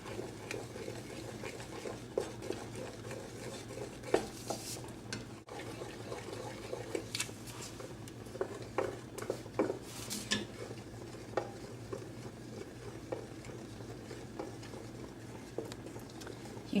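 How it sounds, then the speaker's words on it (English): Spoon stirring a brigadeiro mixture of melted butter and cocoa in a pot, a soft continuous scraping and patter with occasional light clinks against the metal, steady and close throughout. "Keep stirring until your butter is completely melted and you have completely incorporated your cocoa"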